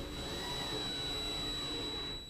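A Rockler Dust Right 1.5HP dust collector runs in a woodworking shop, giving a faint, steady whooshing hum with a thin high whine, unbroken for just over two seconds.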